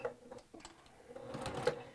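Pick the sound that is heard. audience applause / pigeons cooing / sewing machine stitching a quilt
sewing machine stitching a quilt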